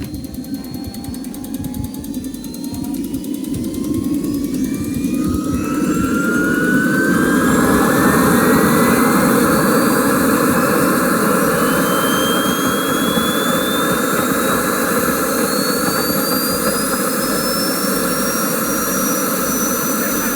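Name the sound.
jet engine of a jet-powered glider running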